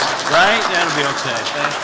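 A Unitarian church congregation applauds throughout a Sunday service, a broad, steady wash of clapping under someone speaking briefly.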